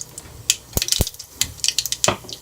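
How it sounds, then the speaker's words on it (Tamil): Mustard seeds with chana dal and urad dal pop in hot oil in a pan, scattered sharp crackles and spits in an uneven burst, fairly quiet and close. "கடுகு நல்லா பொரியுதுங்க."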